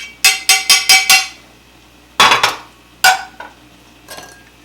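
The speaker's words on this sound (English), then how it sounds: "we're going to go ahead and we're going to strain it" Pots and pans clanking while reduced short rib sauce is strained, with a rapid burst of five sharp metallic taps followed by scattered clanks and scrapes, close and fairly loud.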